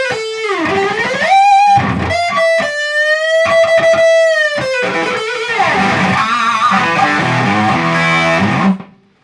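Electric guitar through a Pigtronix compressor pedal that adds grit: a sustained, distorted lead line with bending, singing notes and choppy bursts, loud and close, ending abruptly.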